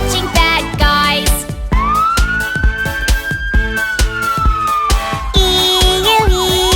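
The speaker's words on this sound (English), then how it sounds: "That's a police car catching bad guys." A loud police car siren wails steadily, rising and falling, over a busy, rhythmic musical backing.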